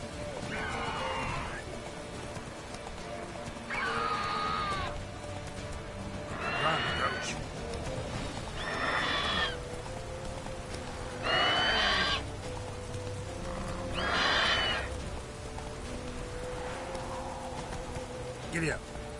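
A horse neighs repeatedly in The Witcher 3, six or seven loud whinnies spaced a few seconds apart over a steady low game ambience, with a faint voice under it.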